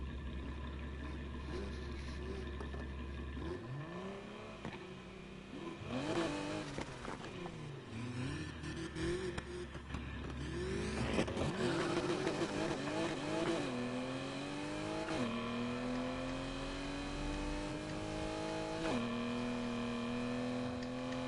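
A fully upgraded car accelerates and revs hard, its engine pitch climbing in repeated sweeping rises with a brief lull and tire noise between surges, close and strong, with no talking.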